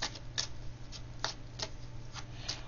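Shuffling of cards during a card reading, heard as a steady series of light, crisp flicks and riffles close by over a low background hum, with no speech.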